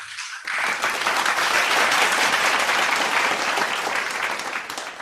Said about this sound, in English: let us give our Reverend Dr. Julius Malikdem another virtual round of applause